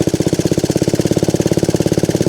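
A small Honda QA50 minibike engine revs hard and steadily at close range, its rapid, evenly pulsing exhaust beat hammering on without any pause.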